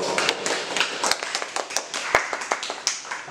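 A small audience at a music school claps by hand: a loose, uneven run of sharp nearby claps over a few seconds, sparse rather than a full roaring ovation.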